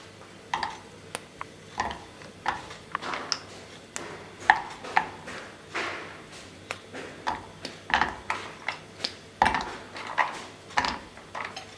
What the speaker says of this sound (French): Vous cassez les morceaux de chocolat et vous les mettez dans